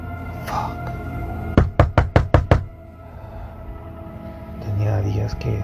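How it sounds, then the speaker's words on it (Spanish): A quick series of six loud, sharp knocks on a door at night, rapping in an even rhythm with a low background hum and murmuring around it. "alguien toca la puerta"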